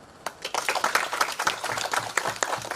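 An audience at an AALP session applauds, a run of moderately loud, irregular hand claps from several people.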